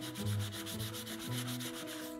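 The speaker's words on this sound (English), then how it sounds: "I'm just gonna briefly sand the plywood edges." Plywood edges being sanded, a close, loud abrasive rubbing with a rhythmic back-and-forth pulse and a tonal hum beneath it, running for just over two seconds with no talk.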